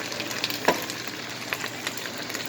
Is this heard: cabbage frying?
yes